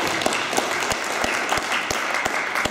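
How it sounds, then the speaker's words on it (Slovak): Applause from the audience at a 2013 public meeting with citizens, steady dense clapping from many hands filling the room for the whole stretch, with a few sharper individual claps standing out. "naozaj si zaslúžia potlesk"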